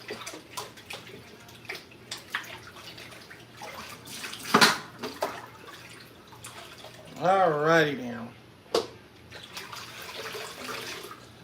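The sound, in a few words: water running out of a sink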